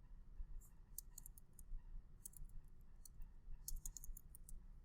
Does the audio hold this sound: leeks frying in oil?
no